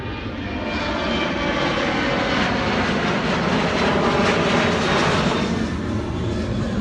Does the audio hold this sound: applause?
no